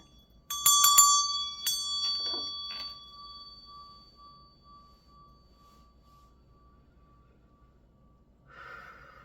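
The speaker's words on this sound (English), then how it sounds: "I'm going to ring my bell." A hand bell is struck several times in quick succession, its clear ringing tone sustaining and slowly fading over several seconds in a quiet room, followed by a faint later chime.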